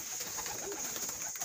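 Teddy pigeons of imported bloodline coo softly in a loft, faint low purring calls over a steady high background whine, with no talking.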